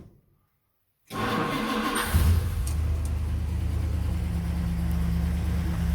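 A 1958 Plymouth Belvedere V8 running on a temporary gas tank, after a second of quiet the engine catches and roars to life, then holds a loud, steady, rumbling run with a brief rev near the start.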